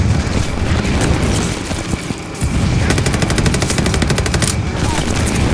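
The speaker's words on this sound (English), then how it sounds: "Trying to fire from a really long range." Sustained automatic gunfire from the Call of Duty Vanguard campaign, dense rapid bursts continuing almost without pause, loud and close with a short lull midway.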